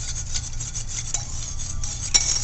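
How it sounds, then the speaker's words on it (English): Zinc oxide being whisked slowly into melted oils in a crockpot, a continuous scraping, rubbing swish of the whisk against the pot, fairly close and steady with small irregular accents. "we're going to slowly whisk in our zinc oxide"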